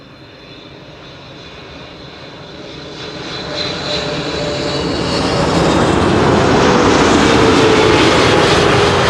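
An airliner arrives on runway 06 (Kaagbaan) at Schiphol with a loud, broad engine roar that swells steadily as the plane approaches and touches down, no voices.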